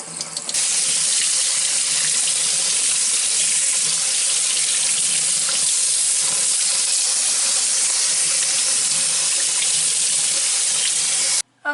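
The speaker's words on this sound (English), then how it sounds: "what I do is squeeze the water in my hair" Water runs and splashes loudly and continuously close by as wet hair is squeezed out, a steady broadband rushing like a running tap that cuts off abruptly at the end, with no talking.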